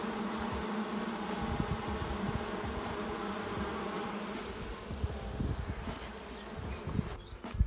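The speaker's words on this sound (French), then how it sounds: "c'est toujours la même ruche, la ruche d'abeilles noires" Black honeybees buzz at an open hive, a close, continuous droning hum of many bees with individual wingbeat swells passing near.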